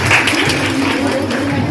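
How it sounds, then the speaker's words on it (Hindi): Clapping welcomes children arriving at a Sanskrit competition event in Lucknow. It is a brief, dense and fairly loud burst that holds steady through the short clip, with some crowd murmur mixed in. "जोरदार ताली से स्वागत कीजिए।"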